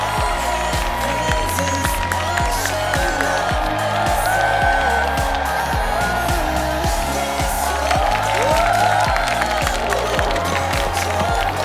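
A television trot-music contest audience claps in steady rhythmic unison for two child duet singers, loud and continuous, with cheering voices mixed into the crowd noise.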